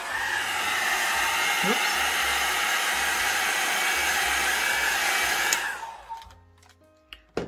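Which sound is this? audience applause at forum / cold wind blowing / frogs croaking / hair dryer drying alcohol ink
hair dryer drying alcohol ink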